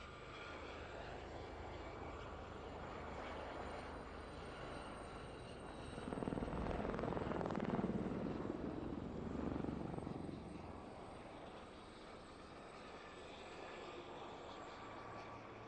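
Gazelle single-engined helicopters fly synchronized manoeuvres at the Royal International Air Tattoo 1999, a steady rotor and turbine drone that swells louder as they pass overhead around the middle, then eases back to a distant hum.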